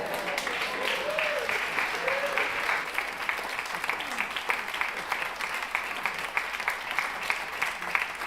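Church congregation applauding at a Unity service after the minister's closing words, a steady wash of many hands clapping throughout, fairly close and full, with scattered voices mixed in.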